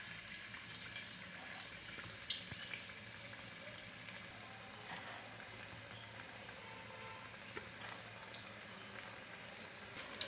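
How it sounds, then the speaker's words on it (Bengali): Onion fritters (piyaji) frying in hot oil in a heated karai, a steady soft sizzle and crackle that holds throughout, with a few small pops and no voices. "এখন আমরা পেঁয়াজিগুলোকে ছেড়ে দেবো তেলের মধ্যে"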